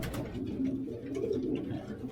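A pigeon kept for colony breeding coos softly in low, rolling phrases that run steadily through the whole moment, with faint background hiss and no voices.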